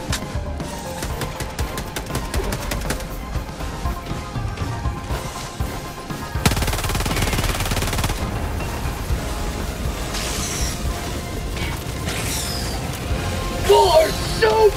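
Sustained automatic gunfire in the Helldivers 2 video game, continuous rapid bursts with a louder stretch midway, mixed with crashes and game noise while a voice speaks over the action.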